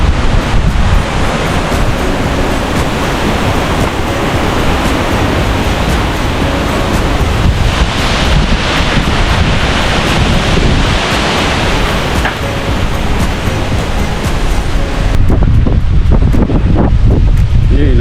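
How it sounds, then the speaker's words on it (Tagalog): Strong typhoon wind roars continuously in a rural spot with bamboo nearby, loud and close with heavy buffeting on the microphone, gusting throughout and shifting in tone near the end. "ang lakas po ng uhugong ng hangin"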